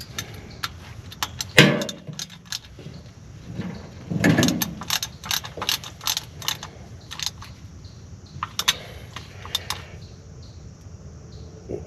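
Metal clicks and ratcheting taps from a wrench snugging down a bolt on the hydrostatic transmission of a TYM tractor, a close, irregular series of sharp ticks with a couple of louder clanks, no talk.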